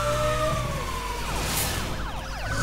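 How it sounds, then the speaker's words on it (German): A police car siren in the racing video game Need for Speed The Run, wailing and sweeping in pitch over a roaring car engine, loud and continuous with no talking. "so ein Polizeiauto hätte ich auch gerne"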